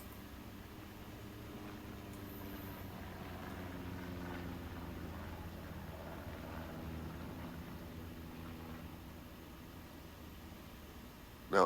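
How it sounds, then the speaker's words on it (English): Recon plane droning overhead in Hell Let Loose, a low steady propeller hum rising and fading faintly across the scene with no talk. "An ANZR recon plane is also coming in."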